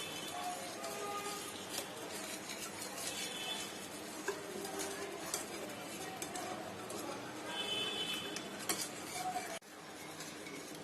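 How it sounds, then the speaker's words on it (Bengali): Spice marinade for crispy fried chicken, with lemon juice and red food colouring, being mixed in a bowl, giving a steady run of close scraping and light clinking of utensil against dish, with no talking. "মশলাটা আমি ভালো করে মিশিয়ে নিয়েছি।"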